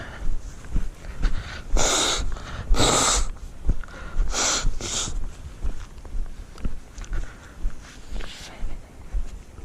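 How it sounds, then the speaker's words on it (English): Two loud, breathy nose blows in quick succession, then two more a few seconds later, with faint outdoor background noise between. "Blow my nose again"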